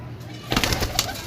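A pigeon gives a short, soft cooing call close by, a brief burst of throaty notes.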